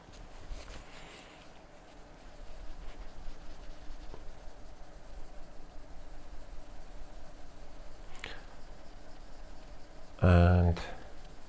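A microfiber cloth rubbing migakiko polishing powder over an Uwazuri urushi lacquer layer, a soft continuous scratchy swishing close by, ending with a brief louder knock or clatter.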